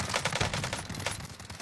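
Dense gunfire in the gulag of the Call of Duty Warzone video game, a loud, continuous rattle of rapid shots filling the whole short stretch with no talk over it.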